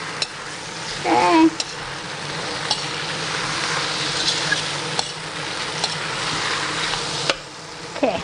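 Char kuay teow noodles fry in a hot pan, a steady close sizzle punctuated by scraping stirs and occasional knocks of the utensil, with a short spoken word early on.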